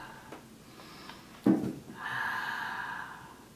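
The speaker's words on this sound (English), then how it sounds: "on your next exhale, I want you to exhale like you're fogging up a mirror." A single audible Ujjayi exhale, a breathy, throat-constricted rush like fogging a mirror, follows a sharper intake, close and quiet, fading out over about a second and a half.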